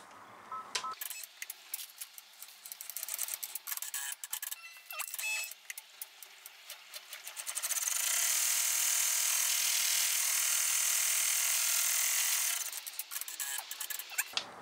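An embroidery machine stitches an in-the-hoop window wallet, first as quick uneven clicks and taps, then as a steady high whirring run for several seconds before the tapping returns, close and moderately loud with no voices.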